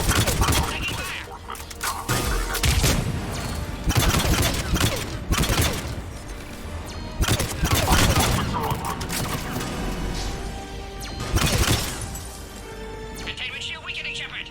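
Heavy gunfire in Mass Effect 3 during an enemy assault: dense, loud bursts of shots and cracks crash almost continuously, with game dialogue voices mixed in.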